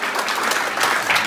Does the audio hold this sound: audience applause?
yes